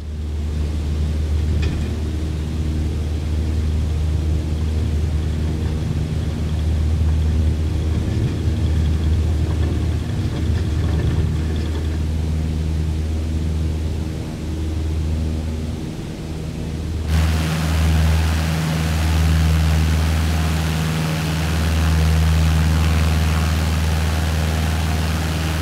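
A propeller aircraft engine in Microsoft Flight Simulator 2020 throttles up, a loud, steady low drone that runs throughout and shifts to a heavier roar partway through, with no talking.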